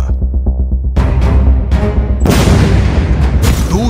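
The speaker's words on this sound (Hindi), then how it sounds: "पहला धमाका" Heavy explosions in Gaza during the Israel-Hamas war, a deep booming blast that hits after a low rumble, then a second louder blast with rolling debris noise, close and loud.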